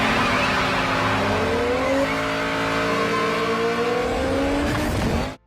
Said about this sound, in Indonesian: Mobil dom dongkak ke atas saat melakukan akselerasi